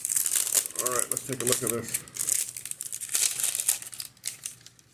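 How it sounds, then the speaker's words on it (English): Plastic ring protector being pried off with a small key ring knife, giving close crinkling and crackling of plastic with a few sharp snaps while a person talks over it. "use our handy dandy little pocket knife or a little key ring knife to pop this plastic ring protector off"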